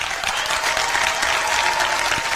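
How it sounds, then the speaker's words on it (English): Scattered audience applause, a thin steady patter of clapping from a modest crowd that holds at an even level throughout, with no voices over it. "That's a smattering. I've heard better applause at a golf tournament"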